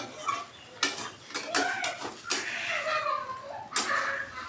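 A spatula scrapes and clatters in a pan while sugar is stirred into cooking Malabar spinach chorchori, several sharp metallic strikes over a low background with faint tonal sounds between them.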